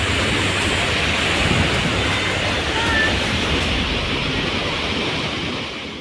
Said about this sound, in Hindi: अभी तो यहाँ के वातावरण में बस जल के प्रलय का ही घोर निनाद गूंज रहा है।